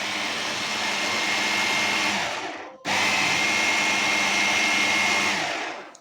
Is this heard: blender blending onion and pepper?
yes